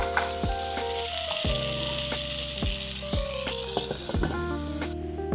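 Vegetables pan-roasting in a frying pan, a loud, steady close sizzle and crackle, with a few sharp utensil taps and an electronic tone in the background.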